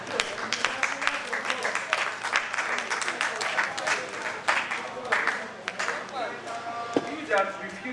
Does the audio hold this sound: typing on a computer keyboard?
no